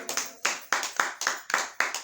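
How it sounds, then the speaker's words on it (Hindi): Clapping at a talk aimed at housewives, a quick series of about eight crisp hand claps in an even rhythm, close and fairly quiet, with no voices over them. "एक बार ताली बजाओ"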